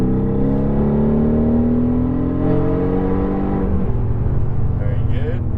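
A Mercedes-AMG GT R engine roars loud and close on a race track, its pitch climbing steadily as it accelerates, with a voice talking over it.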